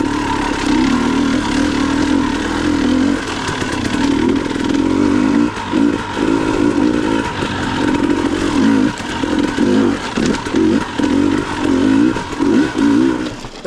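An enduro dirt bike engine works up a wooded trail climb, revving loud and close with a steady buzzing drone broken by repeated throttle blips and surges, plus some clattering from the ride.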